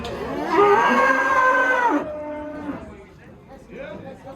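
A dairy cow at a cattle market in Kyzylorda lets out one long, loud, deep moo up close, followed by a softer, shorter low call, with faint background voices.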